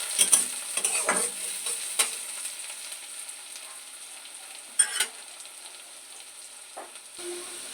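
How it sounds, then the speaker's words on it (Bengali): Onions and green chillies stir-fried in a pan for Bengali rohu fish curry, a steady soft sizzle broken by a few sharp scraping stirs, loudest near the start and middle, with no voices. "একটু ভাজা ভাজা করে দেবো"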